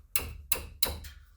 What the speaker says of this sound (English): I'm just gonna give a couple taps with a hammer just to make sure they're nice and snug.